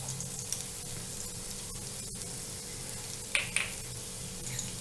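Chopped garlic sizzling in hot oil while cooking veg Manchurian, a faint, steady frying hiss with a few small crackling pops.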